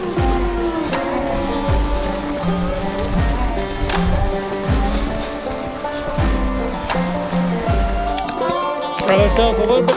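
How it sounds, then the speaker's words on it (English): Hail patters and ticks densely on a two-person tent during a Colorado elk hunt, a loud continuous rattle close overhead with people talking underneath. "Got ourselves a little bit of hail."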